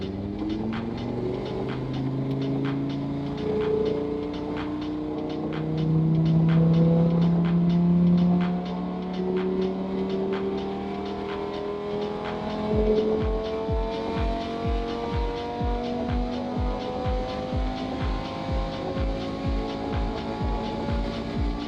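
An Audi RS3 on engine map 2, fitted with water methanol injection, accelerates hard with rising engine tones climbing through gears, ending in a fast rhythmic low pulsing as revs build, loud and close with no talk.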